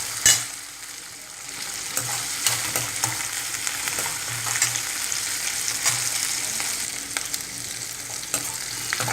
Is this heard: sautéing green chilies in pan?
yes